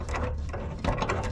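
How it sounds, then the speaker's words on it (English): A ratchet turns an M8 hex bolt on a front stake bracket while a sport bar is assembled for a 2023-2024 Colorado/Canyon, giving quick repeated clicking strokes, close and steady, with no talking. "you're gonna start with attaching the front stake bracket using an M8 hex bolt"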